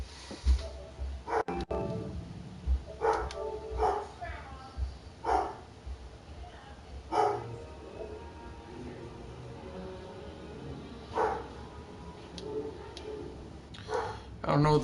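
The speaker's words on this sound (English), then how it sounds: "Why the hell's my dog barking?" A dog barks in short intermittent bursts in the background while a person talks over a video game.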